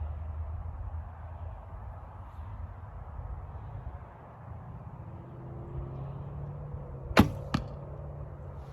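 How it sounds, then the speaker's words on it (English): Two sharp arrow impacts in quick succession from a traditional bow striking a 3D deer target outdoors, standing out loudly against steady low wind and background rumble. "let's put 2 more arrows into the deer vitals"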